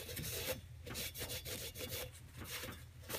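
A stoning block is rubbed back and forth over the gasket surface of a 6.0 Powerstroke diesel engine, giving close, steady abrasive scraping strokes in a regular rhythm, with no talking.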